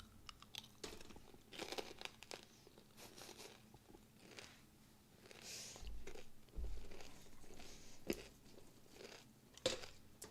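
Crunching while eating a snack, with irregular bursts of biting and chewing close to the microphone over a quiet room background.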